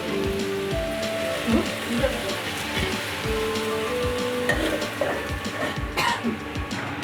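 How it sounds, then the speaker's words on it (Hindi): Potatoes boil in a covered pot over a lowered flame, giving a steady dense bubbling and rattling hiss that runs unbroken throughout, fairly loud and close. "इसको उबलते हुए करीब 10 मिनट हो चुका है"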